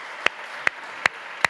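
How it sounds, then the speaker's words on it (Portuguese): Four evenly spaced sharp hand claps in a church service, each crisp and close against a quiet background, with no voices. "Vamos aplaudir ao Senhor por isso?"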